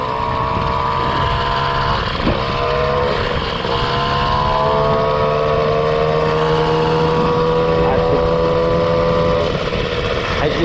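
MBK 40 Flèche d'Argent moped engine being ridden at low speed with light throttle, a loud, steady buzzing two-stroke drone with gently rising and falling pitch, close and continuous.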